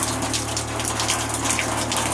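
Hot water gushes steadily from a bath house faucet with strong pressure, a loud, continuous rushing splash close by with no talk.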